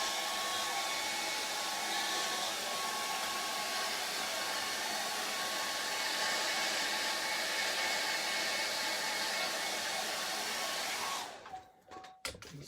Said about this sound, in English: I'm going to use a dryer.